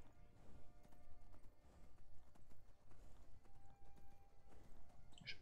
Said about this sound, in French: On entend les bruits du cheval.